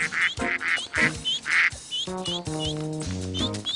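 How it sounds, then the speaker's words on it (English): A father duck in a cartoon quacks in a quick series of loud, close quacks, followed by sustained tonal sounds that continue until the end. "That's the father duck."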